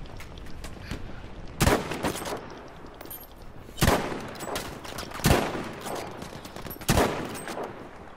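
Gunfire in a video game shooter: four sharp, loud bursts spaced a second or two apart, each a crisp crack with a short tail, over a steady low background hiss without talk.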